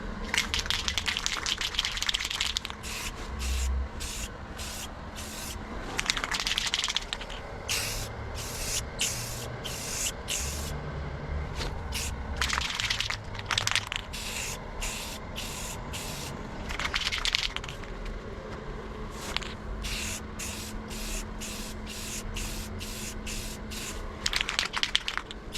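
A second coat of paint is sprayed onto a Nissan 350Z engine bay in a run of short hissing bursts separated by brief pauses, close and steady, with light scraping and knocking between passes.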